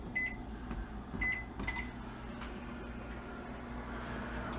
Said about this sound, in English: Now what I'm going to do is I'm going to zap this again